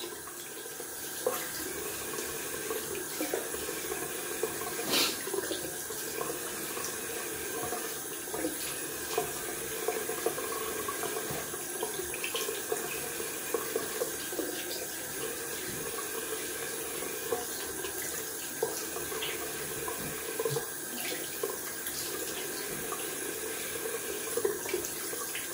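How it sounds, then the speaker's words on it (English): Tap water runs steadily for a cold rinse during a wet shave, a continuous close splashing flow into a sink with no talking. "Okay, cold water rinse."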